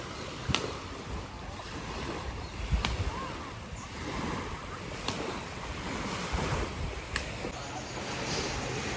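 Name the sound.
strong wind at seaside resort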